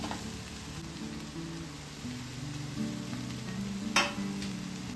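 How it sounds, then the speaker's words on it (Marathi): Sprouted moth beans and onion stir-frying in a pan, a soft steady sizzle with light scraping and one sharper clatter near the end, close by and alone. "झाकण काढून परत मटकी आणि कांदा छान फ्राय करून घेतलं"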